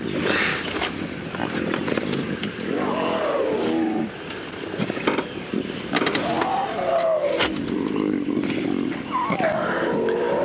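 Several wild lions, including cubs and a female, growl and roar continuously and loudly at close range during an early-morning safari drive, with overlapping snarls and rumbling calls.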